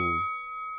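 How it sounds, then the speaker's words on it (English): A single bell strikes once, a bright ding at the start of a UFC fight round, its clear ringing tone sustaining and slowly fading. "Ring that bell!"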